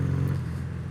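Exhaust of a BMW R75/5 motorcycle being ridden, a steady low boxer-twin thrum that holds close and continuous with some wind noise over it.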